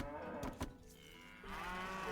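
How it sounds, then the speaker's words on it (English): Cows mooing in Age of Empires II, a couple of low drawn-out moos close by at a quiet level, one after another with no talk over them. "Give me the cows!"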